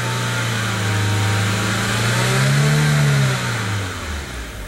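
A 1999 VW Passat 1.8L turbo engine revs under throttle, its loud, close drone rising in pitch and then settling back as the throttle eases.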